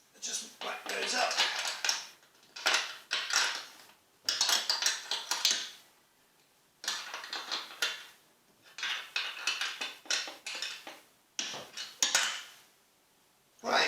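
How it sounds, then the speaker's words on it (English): A spanner tightens nuts on a homemade thickness sander mounted to an oscillating spindle sander table: a run of close metallic clicks, ratcheting and clinks in short bursts with pauses between them. "I've got a spanner here to tighten those nuts down properly"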